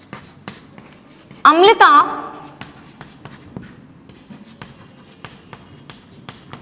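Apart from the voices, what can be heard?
teacher writing on paper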